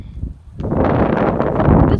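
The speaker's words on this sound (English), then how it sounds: "Wind is out of control." Strong outdoor wind buffeting the microphone, a loud rumbling rush that swells in after a brief quieter moment and holds steady.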